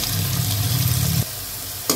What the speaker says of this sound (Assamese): ভালদৰে লৰাই লৈ পিঁয়াজখিনি ভাজক।